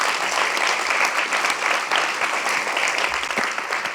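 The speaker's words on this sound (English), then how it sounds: "Give them a round of applause." Audience applause at a tribute event honoring Paul S. Sarbanes on Maryland's Eastern Shore: a dense, steady wash of many hands clapping, loud and sustained for the whole stretch, with no break.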